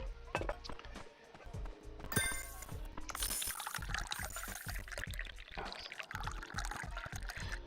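A drink is poured in the video game Dave the Diver: a trickling pour with glassy clinks and a small tap at the end, surrounded by other busy game effects.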